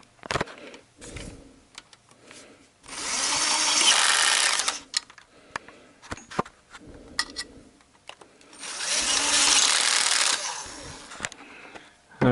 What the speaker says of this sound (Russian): Шуруповерт у меня стоит на 7 ньютон.